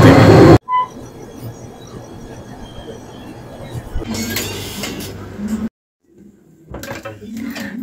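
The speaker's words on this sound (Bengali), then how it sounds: "এখন বাজে 11:35, ঠিক সঠিক সময়ে ট্রেনটি ছেড়ে দিল হাওড়া স্টেশন থেকে" The 12321 Howrah Mumbai Mail pulls out of Howrah station, heard from inside a two-tier AC coach as a low rolling rumble, with loud door-like bangs and clatter breaking in and brief silent gaps.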